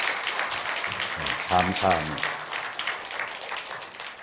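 A church congregation gives a round of applause to welcome a newcomer, a steady patter of many hands clapping, while a voice speaks briefly over it.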